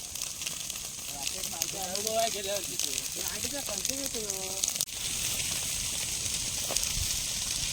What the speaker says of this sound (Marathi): मेले आग गेली बघ